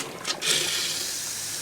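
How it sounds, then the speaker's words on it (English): Pink antifreeze pours into a foot-flush toilet in an RV camper, making a steady, fairly loud rush of running liquid with a brief splashy surge near the start, and no voices. "So we're just going to run this antifreeze."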